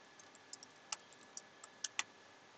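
Light, sparse keystrokes on a computer keyboard while entering a search term into a web database, quiet isolated clicks spaced irregularly over a low steady background hum.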